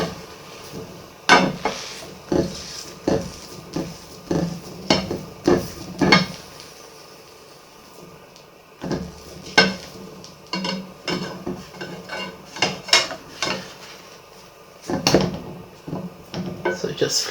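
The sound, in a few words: flipping a healthy pancake in a pan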